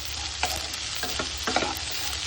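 Onion and tomato frying in a pan give a steady close sizzle, broken by a few scraping stirs, with no voices.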